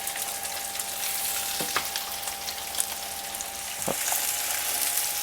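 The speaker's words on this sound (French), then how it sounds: "Et on va marquer la viande en cuisson. On marque de chaque côté." Veal shank for osso buco searing in a non-stick pan, a steady close sizzle and crackle with a few sharp pops, no talking over it.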